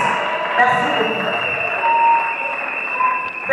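Audience applause at an honorary doctorate ceremony as the laureate is invited up, a steady, even wash of many hands clapping heard over a sustained tone, with a voice present.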